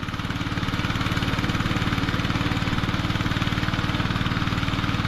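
A two-wheel diesel tractor with a 12-litre engine runs in a rice field during sowing, its close, loud engine chugging in an even, rapid thumping rhythm without a break.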